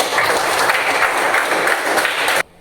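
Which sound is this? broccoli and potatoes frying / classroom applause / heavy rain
classroom applause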